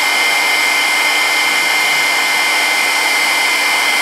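A handheld heat tool blows a loud, steady hot-air roar over embossing bonding powder, running unbroken and alone with no talk.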